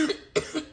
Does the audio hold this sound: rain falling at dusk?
no